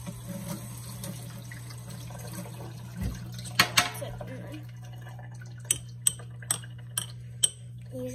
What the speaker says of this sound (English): Oh, now I can use my little spoon. I'm gonna wash it first.